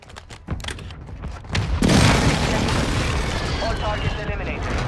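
Airstrike explosions in Call of Duty: Modern Warfare II, a sharp burst followed by a long, loud rumbling roar of blasts that keeps going to the end.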